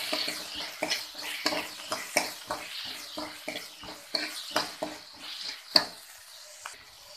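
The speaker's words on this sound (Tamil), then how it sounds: "தக்காளி எல்லாம் சேர்த்து வதங்கிட்டு இருக்க பாருங்க." Tomatoes sauté in a pan for soya gravy as a spatula scrapes and taps in an irregular rhythm over a soft sizzle, close and fairly quiet, with no voices.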